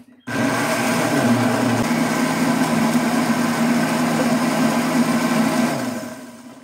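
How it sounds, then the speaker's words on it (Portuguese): A kitchen blender runs steadily as it purees cashew fruit with no water added: a loud, continuous motor whir that starts abruptly, holds an even pitch for about six seconds, then winds down. "Agora é só colocar para bater no liquidificador."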